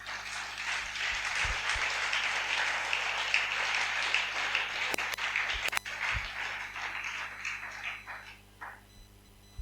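A church congregation applauds in a sustained wash of clapping that swells, then thins into scattered claps with a few sharp knocks near the end.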